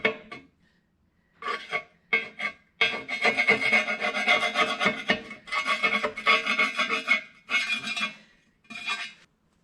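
Dirt being scraped off the edges of a 2008 Dodge 2500 Cummins engine surface, a series of close, rasping scrapes in short bursts and longer strokes separated by brief pauses.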